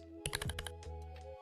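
Typing on a computer keyboard, a quick burst of several close key clicks followed by a few sparser taps, heard alone and fairly near.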